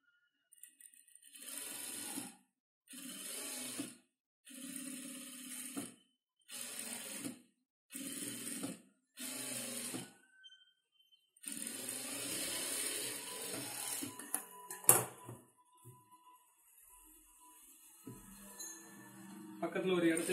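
A sewing machine stitches a sleeve in tailoring work, running in a series of short rattling bursts of one to two seconds each, then one longer continuous run, all fairly quiet and close.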